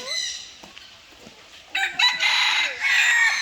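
A rooster crows loudly nearby at a zoo in Thailand, a long drawn-out call rising over faint background chatter and rustling.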